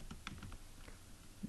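Quick, light clicks of typing on a computer keyboard while entering code, a short patter of keystrokes close to the microphone against a steady hum.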